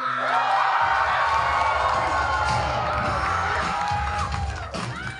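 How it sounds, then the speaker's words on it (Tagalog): Wedding guests burst into loud, sustained cheering, whooping and shouting for the newlywed couple, with some clapping mixed into the crowd's roar that runs the whole time. "Yung pinakamalakas na palakpak at sigaw."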